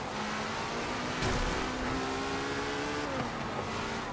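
Car engine from the Forza Motorsport 7 racing game holds a steady drone, with a brief burst of revving or a gear change partway through and a sustained run under constant background noise, no talk.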